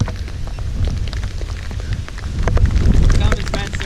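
Rain falls outdoors beside a silt pond during a fishing trip, a steady hiss with scattered drops tapping on a jacket or nearby surfaces, growing slightly heavier toward the end.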